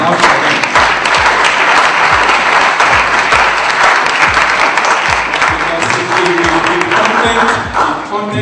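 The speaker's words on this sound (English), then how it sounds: "Let's clap for them." Sustained applause from a conference audience fills the room, steady and dense throughout, with some voices faintly mixed beneath the clapping.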